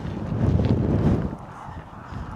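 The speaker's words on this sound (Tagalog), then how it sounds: "lakas ng hangin" Strong wind buffets the microphone outdoors at a snake den site, loud gusty rumble for about a second before dropping to a softer blow.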